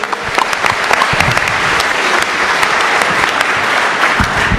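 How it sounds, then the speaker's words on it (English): A crowd claps steadily and loudly, a dense wash of applause that holds at an even level throughout. "Give them a round of applause."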